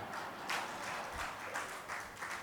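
An audience applauds at a Jain religious discourse, the clapping soft and distant, a steady patter with slight swells throughout.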